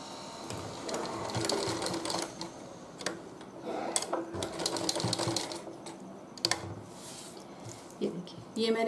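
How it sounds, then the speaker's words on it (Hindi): A sewing machine stitches strips of waste cloth onto a round floor mat in bursts of rapid mechanical clatter, stopping and restarting, close and fairly quiet. "सिलाई मशीन से इसे अटैच करेंगे।"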